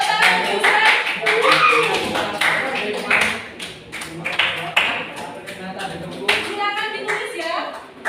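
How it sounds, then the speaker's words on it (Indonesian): Students in a ninth-grade classroom clap for a classmate, Yusra: a brisk burst of hand claps mixed with overlapping children's voices talking throughout. "Tepuk tangan Yusra"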